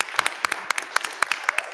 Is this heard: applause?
yes